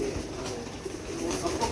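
Pigeons on a rooftop in Karachi give soft, low coos, close by and brief, over faint background noise.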